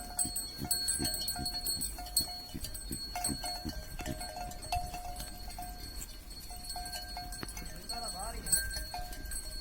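A black ram or sheep bleats in a goat and sheep shed, short calls over hoof clatter, bells and other farm animals, while people talk nearby.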